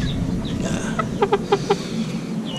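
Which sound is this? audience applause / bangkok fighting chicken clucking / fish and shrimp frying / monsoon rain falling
bangkok fighting chicken clucking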